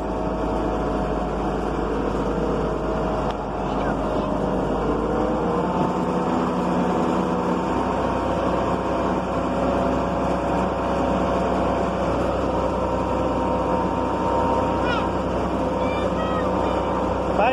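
A vehicle engine drones steadily and loudly as it is driven through thick mud, a continuous low rumble with no breaks, while people talk over it.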